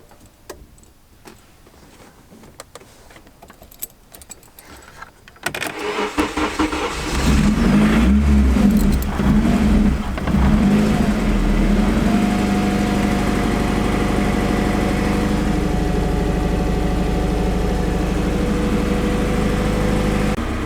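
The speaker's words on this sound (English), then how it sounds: "I'm gonna just fire it up and make sure it actually works and check for oil leaks and stuff" A Honda Integra engine cranks and fires up, settling from a surge into a loud, steady idle that continues with light ticking, close by and without talk.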